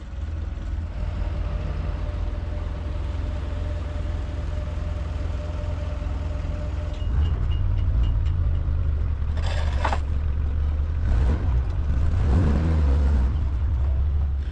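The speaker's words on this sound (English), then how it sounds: "Forklift is warming up." Forklift engine warming up near a pickup truck with a fifth-wheel hitch, a steady low idling rumble that grows slightly louder midway, with a few brief clatters on top.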